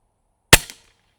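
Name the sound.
cheap bullpup air rifle firing pellets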